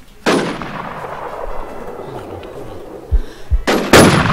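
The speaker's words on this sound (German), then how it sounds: "Boom, Kopfschuss." A single loud sniper rifle crack from a quickscope headshot in a video game, followed by more sharp game shots and impacts near the end, with brief voice sounds in between.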